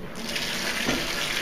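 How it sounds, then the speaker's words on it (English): Water gushes steadily from a bathtub faucet into the tub, a close, continuous splashing rush that lasts only a moment. "I'm going to turn on the water over here."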